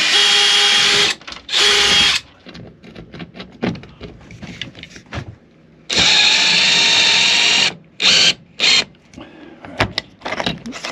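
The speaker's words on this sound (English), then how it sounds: "pre-drilling the holes so we don't split the wood" A power drill pre-drilling holes in wood whirs in several short, loud bursts, pausing between holes, with quieter handling noises in the gaps.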